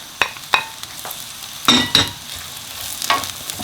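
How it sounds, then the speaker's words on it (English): Julienned carrot and cabbage being stir-fried on a high flame for chicken chow mein, with several sharp spatula scrapes and tosses over a light, steady sizzle, close by. "just stir fry both of this together for 2 to 3 minutes on a high flame"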